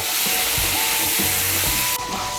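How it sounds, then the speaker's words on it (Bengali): Potatoes frying in a pan with salt and turmeric for an aloo curry, a loud, dense hiss of hot oil running throughout, with soft thumps of stirring underneath. "নুন আর হলুদের গুঁড়োটাকে মিশিয়ে নিয়ে আলুটাকে লাল করে ভেজে নেব"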